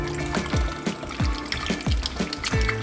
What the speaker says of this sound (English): Add some coconut water,